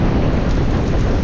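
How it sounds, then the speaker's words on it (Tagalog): Heavy rain pours steadily at a windy seaside beach, a dense continuous hiss with a deep rumbling wind undertone and no pauses. "Oh, umulan na naman."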